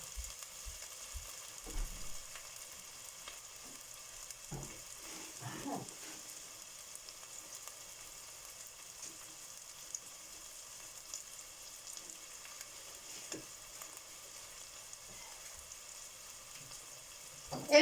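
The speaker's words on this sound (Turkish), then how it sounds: "Patatesleri, salçayı kavuruyorum." Potatoes and tomato paste sautéing in a pan give a faint, steady sizzle with a few soft stirring scrapes near the start, quiet and even throughout with no talking.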